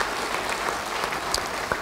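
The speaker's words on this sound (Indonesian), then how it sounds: "Yang percaya beri tepuk tangan bagi dia." Steady applause from a church congregation, a continuous wash of clapping at moderate loudness with no voices on top.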